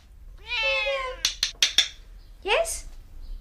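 A house cat, a rescue, gives a long drawn-out meow, then a few sharp clicks or taps, then a shorter rising meow, close and clear in a quiet room.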